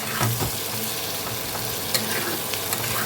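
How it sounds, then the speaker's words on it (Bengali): Raw tomato frying with spices in hot oil for a Bengali kacha tomato dish, a steady sizzle with occasional stirring scrapes, close and alone. "এখন আমি এটাকে এই তেলের মধ্যে দু থেকে তিন মিনিট ভালো করে একটু টমেটোটাকে মশলার সাথে ভেজে নেব"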